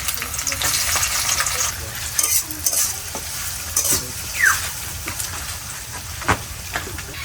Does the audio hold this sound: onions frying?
yes